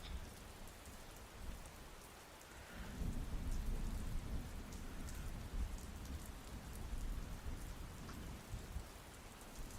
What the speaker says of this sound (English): It's very quiet downstairs other than the sound of the rain.